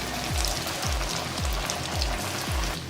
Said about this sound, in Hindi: ये नगेट्स ऐड करने हैं, फ्राई करने हैं